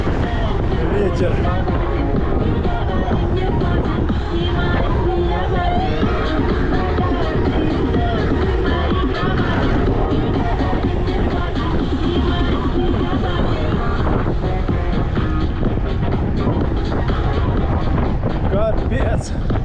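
Strong cold wind gusts across the Crimean coast in June, battering the microphone with a loud, constant roaring buffet, while people talk underneath it.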